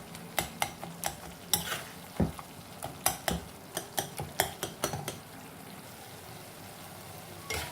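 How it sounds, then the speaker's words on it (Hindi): A utensil mashes cooked ridge gourd and tomato sabji in a pan, giving a rhythmic series of close, soft knocks and scrapes against the metal with a faint sizzle underneath. "और इसे इस तरह से मैश करते जाएंगे।"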